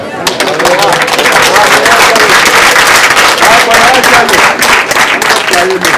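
Wedding guests break into loud, dense applause that stays close and steady for the whole stretch, with crowd voices murmuring underneath.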